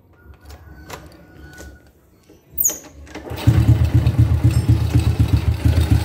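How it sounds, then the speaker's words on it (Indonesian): After a few clicks and a mechanical clatter, a small Honda Grand carbureted motorcycle engine catches and settles into a loud, rapid, steady idle close by. "Motor saya hidupkan dulu."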